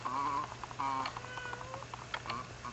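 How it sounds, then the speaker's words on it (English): A cartoonish cat meows repeatedly from the video game Luigi's Mansion, its tonal mews rising and falling in short bursts over steady game background sound. "Kitty."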